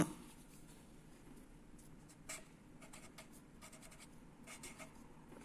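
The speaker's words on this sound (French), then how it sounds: "Donc j'écris ça là." A pen scratches across paper at close range, faint and intermittent, with short bursts of scribbling strokes over quiet room tone while a lamp-switching circuit is being noted down.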